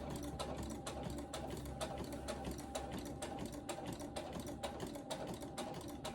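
A sewing machine stitches a wide zigzag through quilt fabric, a fast steady mechanical clatter of needle strokes that runs unbroken from start to finish, close up and alone.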